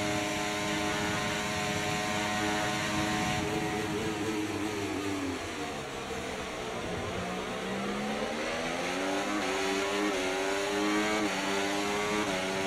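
F1 race car in the EA Sports F1 24 video game accelerating hard, a loud continuous high engine whine climbing and dipping through gears for the whole stretch, with no voices over it.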